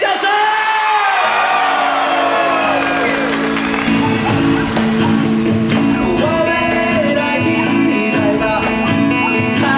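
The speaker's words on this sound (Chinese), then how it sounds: "我要听到尖叫声。" An outdoor carnival concert crowd on Penghu island screams, whoops and cheers loudly and continuously, a dense roar of many voices filling the space.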